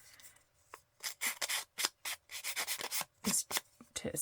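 Paper is rubbed with a sanding block sponge in quick, uneven rasping strokes, fairly close and alone, in a series of short bursts with brief pauses between them.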